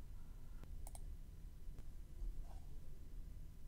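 A few faint, sharp computer mouse clicks, spaced out over a couple of seconds, sit above a steady low background hiss.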